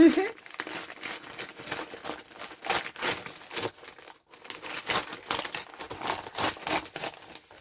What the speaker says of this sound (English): So cute, lots of rustling.